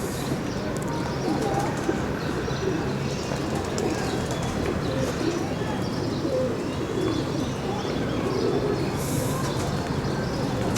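Qasoor pigeons of pure breed coo softly in low, rolling murmurs, close by amid other bird chirps, while someone talks over them.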